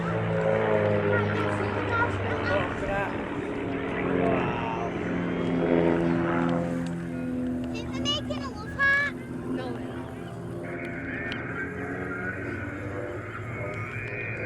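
Several Van's RV-8 light aircraft fly in formation at the Southport air show, with a steady propeller drone filling the scene. The engine tone shifts as planes pass, a commentator talks over it, and crowd noise sits underneath.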